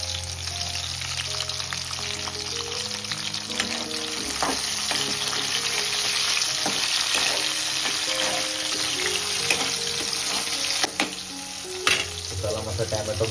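Tomatoes sizzle and fry steadily in a pan for a fish curry, with a dense, continuous crackle and occasional stirring clinks throughout, close and fairly loud.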